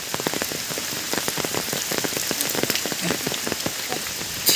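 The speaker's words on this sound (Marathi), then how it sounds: "पण पाऊस जोरात पडला" Heavy rain pours steadily, with many drops pattering and splattering on nearby surfaces in a constant, dense patter.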